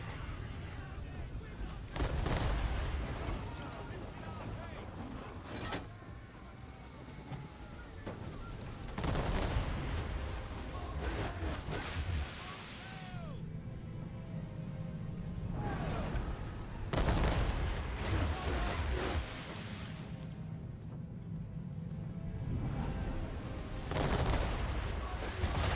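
Cannon fire booms across a naval battle in a storm in Assassin's Creed III Remastered, several heavy blasts spaced through the scene amid roaring wind and waves.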